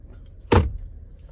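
A single thud comes from the glove box of a 2023 Chevrolet Blazer Premier as it is shut, brief and close, within a quiet cabin.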